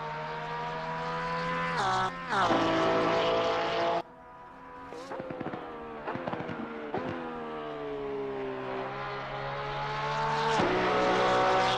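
Race car in the video game Assetto Corsa Competizione, engine whining through rising and falling gear changes, with sharp shifts and brief lifts off the throttle between bursts of acceleration.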